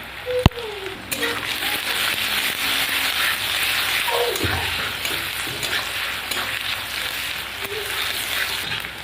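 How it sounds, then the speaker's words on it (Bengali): Chopped onions fry in a pan with a little salt and turmeric, giving a steady, close sizzle throughout, with a brief clatter near the start and a few soft stirring sounds midway. "পেঁয়াজটা একটু ভাজা ভাজা করে নেব"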